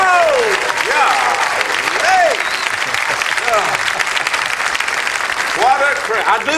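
Studio audience applauds steadily throughout at a country music TV show, a dense continuous clapping with a host's voice and laughter cutting in over it at intervals.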